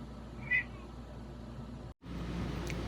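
A cat gives a single short, faint meow in a quiet RV interior during an Alaska road trip, with low background hum and no talking.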